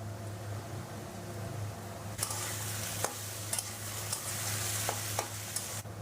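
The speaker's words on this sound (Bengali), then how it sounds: "সব এবার একসাথে ভেজে নেব।" Potato, carrot, capsicum and young pointed gourd stir-frying together for vegetable chow mein, a steady sizzle with several scraping stirs of a spatula against the pan, close up and with no voices.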